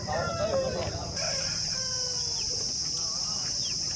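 A mature, roughly three-year-old rooster of Tamil Nadu lineage crows at a busy native-chicken market in Mydukur, a loud, close crow early on, then more calling over constant crowd murmur and background voices.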